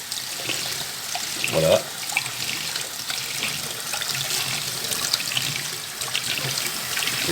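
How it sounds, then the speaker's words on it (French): Cold tap water runs steadily over dry seeds being rinsed for germination, a constant close hiss and splash while a voice speaks briefly. "vous les rincez bien comme il faut, la première fois, à l'eau froide"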